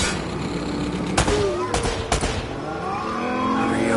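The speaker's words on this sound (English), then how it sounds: "More shooting!" Heavy gunfire in Uncharted: Drake's Fortune Remastered rattles steadily through a busy action scene, with a few sharper loud cracks standing out against the background din.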